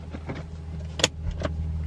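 A Lexus IS300 idles with a steady low engine hum as it is moved, joined by a few short mechanical clicks and a brief whirring burst midway. No one speaks.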